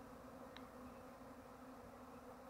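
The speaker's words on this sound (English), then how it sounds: "you can see that there are thousands and thousands of bees" A swarm of thousands of honey bees fills the air with a steady, dense drone, continuous and fairly faint, with no other sounds.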